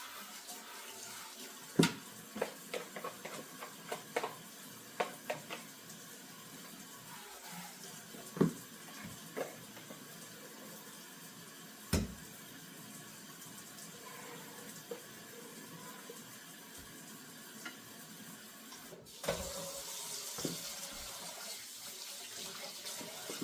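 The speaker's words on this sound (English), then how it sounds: "Again, I have to wash this plate." A kitchen tap runs steadily while a plate is washed, with a continuous hiss of water and scattered clinks and knocks of dishware, then a brief louder splash near the end.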